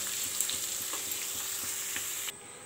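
Masala for Delhi-style Mughlai chicken fries in a pan over a low gas flame, a dense, close crackling sizzle that drops off abruptly near the end.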